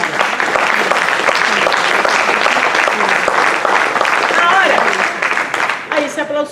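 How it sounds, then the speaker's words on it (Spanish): A large congregation applauds inside a church, loud and sustained clapping that fills the space, with voices mixed in before it thins near the end. "Denle un aplauso al Señor."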